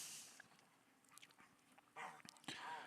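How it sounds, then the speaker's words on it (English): A dog whines and whimpers faintly in the background, with soft, brief, intermittent vocalizations and a couple of slightly louder bursts near the end. "that's my dog back there. If you can hear her just arring and yarring and being a baby."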